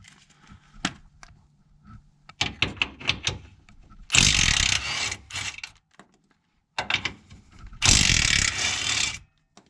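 A power ratchet removing 14 mm bolts from a small brace during a sway bar install on a GT86/BRZ/FR-S gives close, loud bursts of rapid mechanical whirring. Two long runs are each preceded by clicks and short clattering handling noises.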